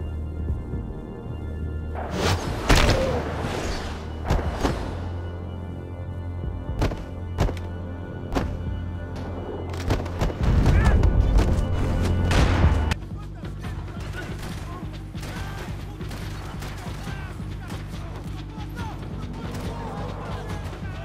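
Slowed bullet-time gunshots in the video game Max Payne 3, a few heavy muffled thumps spread across the stretch with a louder sustained burst near the end, under a voice talking.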